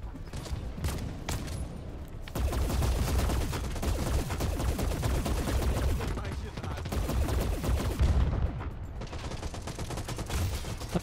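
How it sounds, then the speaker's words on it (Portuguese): Gunfire in the video game Hawked: a steady, heavy clatter of rapid shots with a few louder bangs and crackling bursts runs almost the whole time, with voices faintly under the shooting. "Quem tá atirando?"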